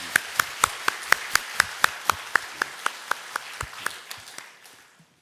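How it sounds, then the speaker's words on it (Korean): Rhythmic, evenly spaced clapping in a church congregation, sharp distinct claps in unison at a steady pace that gradually soften and fade out. "박수로 격려하겠습니다."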